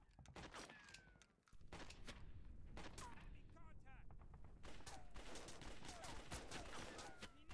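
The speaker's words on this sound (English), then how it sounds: "Seems like a pretty good long-range machine gun." In a modern-warfare tower-defense RTS video game, machine guns rattle in dense, overlapping bursts of gunfire and scattered thuds. The fire is continuous, loud in the mix, and nearly constant, with a brief lull.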